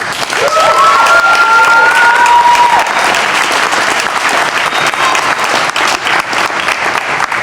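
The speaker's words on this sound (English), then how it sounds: "a round of applause for the Cowles" Wedding guests applaud at a reception, loud, dense clapping from a large crowd that holds steady throughout, with a brief whistle or cheer early on and some voices mixed into the noise.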